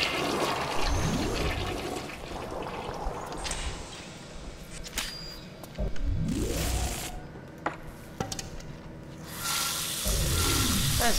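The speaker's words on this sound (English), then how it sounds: "That's dirty water." Dirty water gushes and sloshes in the Bioshock video game, a steady loud wet rush with several swelling surges and splashy bursts running throughout, no talking.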